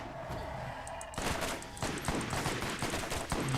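Rapid bursts of automatic gunfire in the Borderlands video game, dense and loud after a quieter opening second, with overlapping shots in quick succession.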